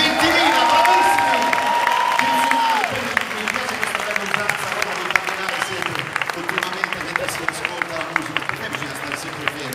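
A crowd of about 20,000 at a farewell concert in Rome applauds and cheers, a dense wash of clapping throughout, with a voice speaking over the start.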